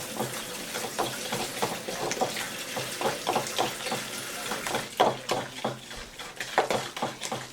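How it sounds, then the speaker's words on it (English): Hands being washed under a running kitchen tap while baking Christmas cookies, a steady water rush mixed with clinks of dishes and utensils nearby. "Let me wash my hands."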